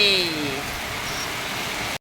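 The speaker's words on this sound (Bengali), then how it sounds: "বৃষ্টি জানলা বন্ধ করে রেখেছি কি জোর বৃষ্টি নেমেছে" Heavy rain falls outside a closed window as a steady, muffled hiss. A few faint tones sound near the start, and the sound cuts off abruptly at the end.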